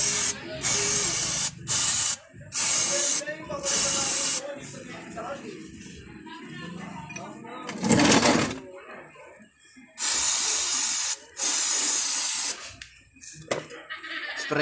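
Parts cleaner sprayed onto car brakes comes in loud bursts of hissing aerosol, several short blasts and then two longer ones. A person speaks between the sprays.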